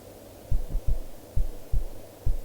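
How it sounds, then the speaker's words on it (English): A heartbeat sound effect in the horror video game Midnight Evil thumps in deep paired beats at a slow, even pace, loud and alone over a low background hum. "Also, that heartbeat don't fucking help me."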